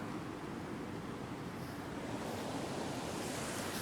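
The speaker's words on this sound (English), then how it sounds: "Look at the river." A river flows outdoors, giving a continuous broad rushing wash at moderate distance, steady throughout and mixed with some wind noise, with no voices.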